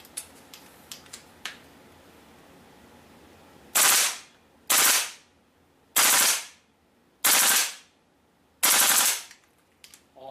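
Five separate bursts of rapid full-auto fire from a WE SCAR or ACR airsoft rifle, each lasting about half a second and loud and close, preceded by a few faint clicks.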